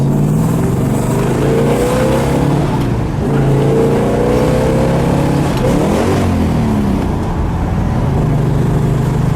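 A 1968 Plymouth Road Runner with a 383 V8 and four-speed manual accelerates hard, loud and close, its engine note climbing, dropping at shifts and climbing again.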